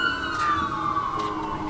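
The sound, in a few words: emergency vehicle sirens going by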